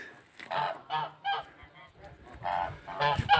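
Several geese honk nearby in irregular bursts, their nasal calls overlapping and growing louder toward the end.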